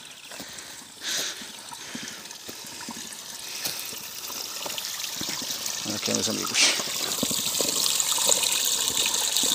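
Water flows down from a pipe on a rural farm property, a steady splashing trickle and pour close by while someone speaks over it.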